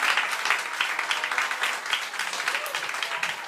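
Applause from a church congregation during a Sunday evening service, a steady dense patter of many hands clapping throughout, fairly close and filling the room with no talking over it.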